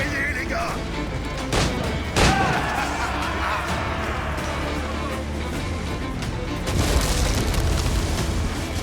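Mortar cannon fire aboard a ship in the video game Assassin's Creed IV Black Flag, a couple of deep booms with crashing impacts over a dense rumbling battle din, while voices shout in the background.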